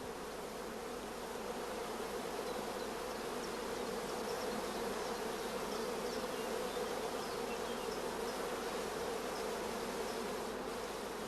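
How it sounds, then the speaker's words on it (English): A dense swarm of honey bees crowding around queen cells on a rearing frame from a starter colony: a steady, even buzzing hum that continues without a break, close by and moderately quiet, with no voices. "Bees crowding thickly around the cells is a first positive sign of good acceptance."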